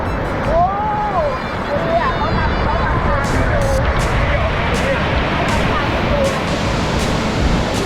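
The Khlong Lan waterfall roars up close in a heavy, continuous rush of falling water and spray, with excited voices talking over it and a few brief clicks.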